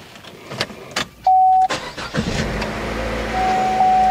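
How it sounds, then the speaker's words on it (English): A 2013 Chevy Trax engine cranks briefly with a starter whir and a couple of door-chime beeps, then catches and settles into a steady, close idle, with no talking over it. "start the car."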